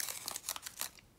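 Scissors snip through a plastic diamond painting packet in a few quick, crisp cuts with light crinkling, close up and fairly quiet.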